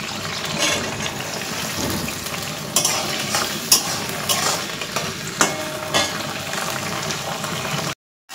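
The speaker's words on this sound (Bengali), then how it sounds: "এবার তার মধ্যে মিশিয়ে দিচ্ছি বিনস।" Beans are stirred into a frying pan of partly cooked vegetables, giving a close bubbling sizzle with repeated scraping and clattering stirs, a few sharper knocks, and a brief cutoff at the end.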